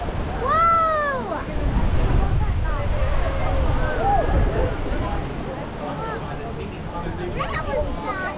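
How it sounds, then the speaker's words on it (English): Strong wind gusts buffet the microphone on a lookout in the Blue Mountains, a constant low rumble beneath excited voices and brief squeals. "Whoa, it's so windy."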